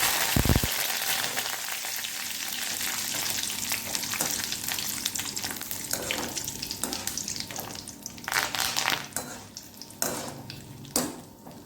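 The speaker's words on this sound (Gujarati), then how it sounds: "અને થોડાક મીઠા લીમડાના પાન તળવા" Curry leaves dropped into hot oil while making garlic-flavoured puffed rice chevdo, a steady bright sizzle with crackling bursts and occasional sharp clinks of a spoon against the pan, no voices.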